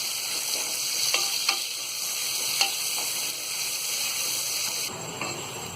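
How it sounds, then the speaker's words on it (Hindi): Steady frying sizzle of chopped onions in a pan, with a few soft clinks of stirring, close and continuous with no talking. "इसके बाद ये कटी हुई प्याज को डाल देंगे और इसे हम हल्का गुलाबी होने तक तलेंगे"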